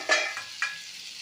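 Bitter gourd pieces stir-frying in a hot pan, with two brief bursts of sizzling and scraping as they are tossed, then a soft steady hiss.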